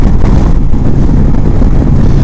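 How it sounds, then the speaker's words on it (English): Heavy wind buffets the microphone with a loud, constant low rumble throughout, outdoors during a motorcycle ride on a Honda Goldwing. "It's quite windy out today, so hopefully you can hear me okay."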